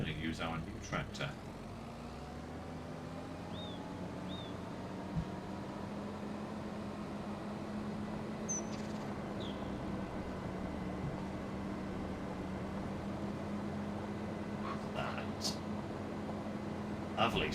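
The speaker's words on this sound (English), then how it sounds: "we're going to use our new tractor." Steady low drone of a tractor engine in Farming Simulator on Calmsden Farm, idling continuously at moderate level with faint occasional clicks and no talk over it.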